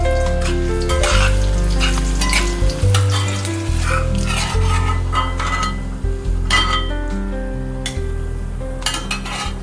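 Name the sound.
coconut pieces frying in oil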